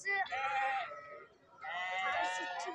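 Lambs and sheep at a small-livestock market in Ceyhan let out two close, wavering bleats, one after another, with a brief pause between them.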